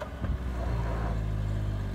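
A Skoda car engine labours uphill, a steady low droning rumble that rises slightly as it strains, heard close up with no talking.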